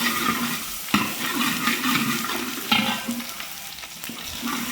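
Garlic sizzles and spits in hot oil with a steady crackle, broken by a couple of sharper scraping stirs, close and fairly loud.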